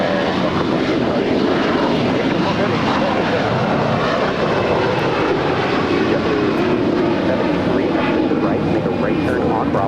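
A Qatar Airways heavy jet takes off from runway 25R at LAX with a loud, steady, broadband roar that fills the whole stretch without letup.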